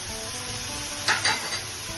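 Yogurt goes into frying masala for methi katla, a Bengali fish dish, raising a brief sizzle and clink of a utensil against the pan amid a steady background hiss of cooking, close by and without talk.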